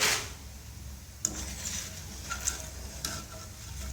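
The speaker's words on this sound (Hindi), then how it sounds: "तो देखिए कितनी अच्छी तरह से हमारे पोहे फ्राई होके निकल रहे हैं।" Poha (flattened rice) frying in hot oil while chivda is made, giving a steady sizzle with occasional stirring scrapes and light clicks from a utensil.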